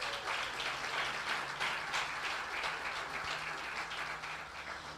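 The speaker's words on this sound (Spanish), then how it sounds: "Desen un aplauso ustedes mismos allí." Church audience applauding steadily, a dense wash of many hands clapping at moderate level with no talk over it.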